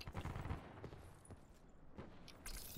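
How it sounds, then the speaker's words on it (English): Scattered gunshots from a video game mission, popping at a distance in irregular bursts with no talk over them. "Those shots coming from inside there?"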